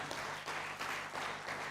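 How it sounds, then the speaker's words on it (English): A conference audience claps for a keynote speaker, steady continuous applause in a large hall, distant and fairly soft, with no speech over it. "Another round of applause for our keynote speaker"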